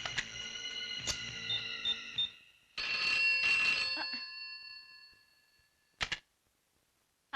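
An old landline telephone bell rings in a hospital-office setting, sounding in two loud bursts with a pause between them, then a short final ring before the line falls silent.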